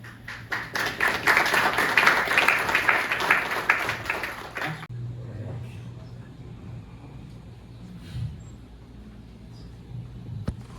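An audience at the Academia Sergipana de Letras breaks into applause: a burst of dense clapping for about five seconds that stops abruptly, followed by quiet room noise with faint scattered sounds.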